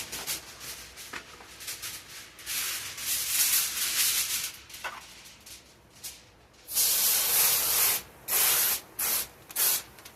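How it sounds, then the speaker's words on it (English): Cooking spray hisses onto aluminum foil in short bursts in a home kitchen, with softer spraying early on and then several loud, close, bright sprays separated by brief pauses. "Spray your aluminum foil."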